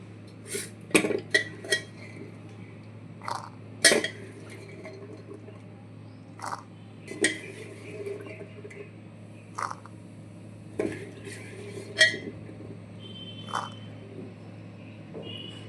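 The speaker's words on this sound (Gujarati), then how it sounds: "બાફેલા ચણા કાઢી લઈશું એક બાઉલમાં" Boiled chickpeas spooned from a pot into a bowl for desi chana chaat, giving scattered light clinks and taps of utensil on dish over a low steady hum, spaced irregularly across the stretch.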